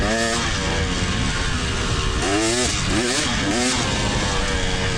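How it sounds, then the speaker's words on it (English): Dirt bike engines roar loud and close during an off-road race, with a rider just behind blipping the throttle in several sharp, rising rev bursts over the constant motor drone. "The fella behind me rev bombs, and I think it scares the people in front of me"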